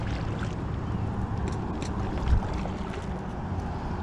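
Stand-up paddling on a Bote Zeppelin Aero kayak with side pontoons gives a steady close wash of water and light wind, with one soft thump of the paddle or board partway through.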